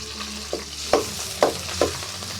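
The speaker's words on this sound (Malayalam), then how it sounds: "അരിഞ്ഞു വെച്ച കുറച്ച് സവാള ഇടുകയാണ്" Chopped onion sizzles in hot coconut oil, a steady frying hiss with four distinct scraping strokes of a spoon against the pan, close and clear.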